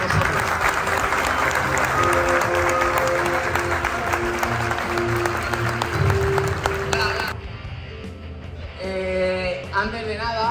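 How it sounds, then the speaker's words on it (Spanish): Loud audience applause at an Age of Sigmar tabletop gaming tournament in Talavera, dense clapping over background music for about seven seconds before dropping away, with a few scattered claps and a voice afterward. "un aplauso muy fuerte primero para todos vosotros"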